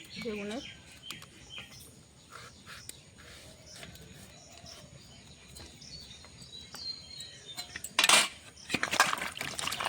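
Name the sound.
knife cutting eggplant (brinjal) for fish curry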